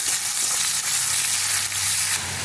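Onions fry in hot oil with a steady, close sizzle and fine popping, a few soft stirring scrapes and no talking.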